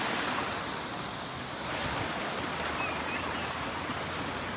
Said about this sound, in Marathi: तो बघा पाणी तिकडून पडून इथं येतो थोडं लांबून